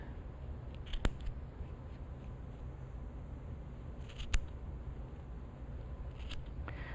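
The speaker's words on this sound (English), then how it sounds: "This is always the most fun part of making pom-poms to me, when you cut it open." Scissors snip through a wound yarn pom-pom in a few sharp separate cuts over a steady low background hum.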